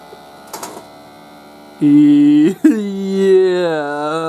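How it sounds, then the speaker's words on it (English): An Ender 3 V3 Plus 3D printer's motors whir with loud, tonal whines that hold, break off, then slide up and down in pitch, following a few faint clicks. "I'll come back when it's not making heaps of noise."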